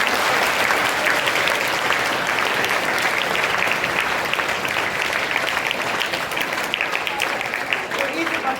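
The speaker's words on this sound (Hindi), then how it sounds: "एक बार इसके लिए जोरदार ताली हो जाए" Dense, loud applause from a seminar audience fills the room evenly and without a break, honouring a girl's memory record.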